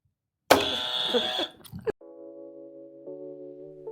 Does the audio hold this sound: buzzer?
yes